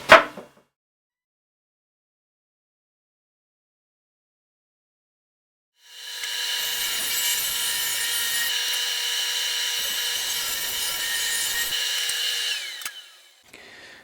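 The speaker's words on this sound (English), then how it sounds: "let's get started on ripping the cedar slats and cutting them to length." A power saw rips cedar slats and cuts them to length for a convertible picnic table, one steady loud whining cut of about seven seconds after a long silence, with a brief tap at the start and a short noise near the end.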